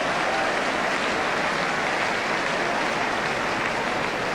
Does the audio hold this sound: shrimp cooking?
no